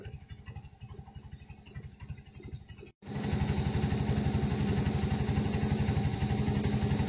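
An auto rickshaw's engine runs while the vehicle is parked by a new bypass road, a rapid close putter that cuts out briefly, then restarts louder and keeps up a steady throbbing idle.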